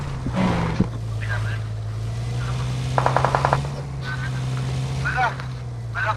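Video game gunfire crackles in a rapid automatic burst partway through, with a few scattered shots elsewhere, all over a steady low engine-like drone while players talk throughout.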